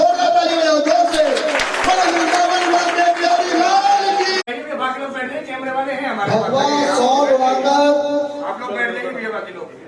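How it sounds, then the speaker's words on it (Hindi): Audience at a Hindu religious assembly, a Sanatan Dharma sansad, clapping and cheering loudly and steadily throughout, with babble and voices mixed in and a brief cut midway. "जोरदार ताली बजाओ, जोर से"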